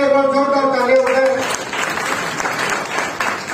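Applause breaks out at a Bahujan political gathering after someone speaks through a microphone, a burst of clapping from the audience that carries on steadily to the end.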